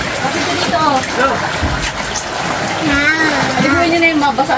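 Typhoon waves wash into a house during storm Carina, with sloshing, splashing water throughout and people talking and shouting over it at close range.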